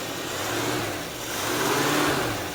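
A farm vehicle engine runs smoothly at a steady mid-pitched hum, close and continuous, with a gentle swell in loudness partway through and no talking.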